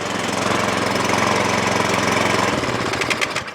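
Small gas engine on a snow blower running with the choke worked, a loud, close, rapid chugging drone with steady knocking pulses that grows rougher and more uneven toward the end.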